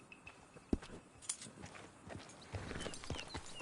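Horse hooves clip-clop at a walking pace in a video game, a few uneven thuds with soft ambient noise between them, fairly quiet and close.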